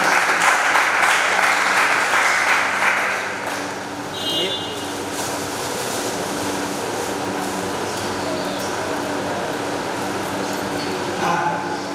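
A crowd at a Rashtra Chetna Yatra gathering in Gurgaon, Haryana, gives a warm welcoming round of applause that is loud for about three seconds, then drops to a steady murmur of the hall.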